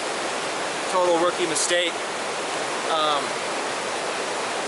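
A mountain stream flows at a camping spot, giving a steady close rushing of water that runs through the whole clip while someone speaks briefly over it.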